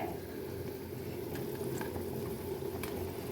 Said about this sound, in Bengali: দেখো ঝোলটা কত সুন্দর ফুটে গেছে